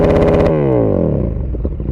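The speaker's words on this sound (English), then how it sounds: "I'll put a video right here of what the GP3 exhaust sounds like, the Dominator." A KTM 1290 motorcycle with a Dominator GP3 exhaust revs hard up close, a loud throbbing blip that drops away into a falling, burbling idle.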